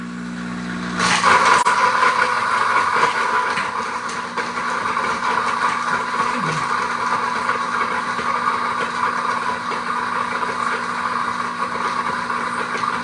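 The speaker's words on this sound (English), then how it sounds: "turn my blender on, so I apologize for the noise" A blender starts abruptly and runs loud and steady, a continuous whirring roar that holds without pause for several seconds.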